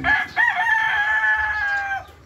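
A rooster crows once nearby, a loud drawn-out call lasting about two seconds, with faint farmyard noise underneath.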